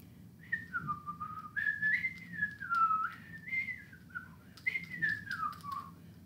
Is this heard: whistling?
yes